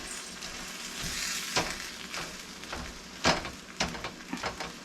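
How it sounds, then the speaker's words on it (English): Ground beef sizzling in a pan while a tool breaks it up, a steady fry under intermittent sharp scrapes and taps that grow louder toward the end. "That's just another way of Breaking up the meat."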